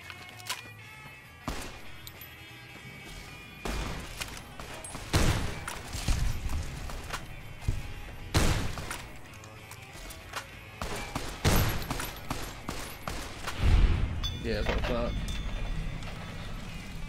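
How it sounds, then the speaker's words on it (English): Shotgun blasts in the video game Fallout New Vegas, several loud, sharp booms spaced irregularly among game noise and footsteps, with someone talking over them. "here's where the shotgun comes in handy"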